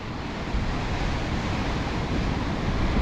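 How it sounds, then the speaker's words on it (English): During Storm Ashley on the Scottish coast, big storm waves crash against rocks in a continuous loud roar, with heavy wind buffeting the microphone. "Every now and again you get some bigger waves, much bigger than all the rest, and here they come."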